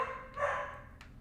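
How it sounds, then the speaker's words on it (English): A female dog barks somewhere indoors, two or three quick, muffled barks with a short gap between them, moderately faint and with no talking. "She keeps barking."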